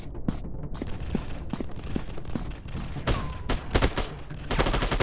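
Rapid gunfire from a first-person shooter game, likely PUBG, crackles in quick bursts of shots with dense game ambience filling the gaps, loud and close throughout.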